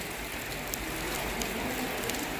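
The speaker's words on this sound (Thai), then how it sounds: "ฝนก็ตก" Rain falls steadily in a rural Thai village on a temple funeral day, a soft, even hiss of drops on surfaces that carries on without pause, faint and unbroken.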